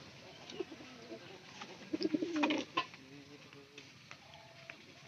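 Pigeons cooing softly in a domestic loft, several low throaty coos rising and falling at moderate distance against quiet room noise, with faint voices in the background.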